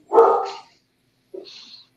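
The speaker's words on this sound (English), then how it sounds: "Sorry about the dog." A dog gives a sharp single bark, then a shorter, fainter yip about a second later, close by in an otherwise quiet room.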